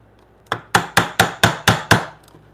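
Steel chisel driven by mallet blows while cutting through mortises in timber for a timber frame bunk bed, seven sharp evenly spaced close knocks ringing out alone.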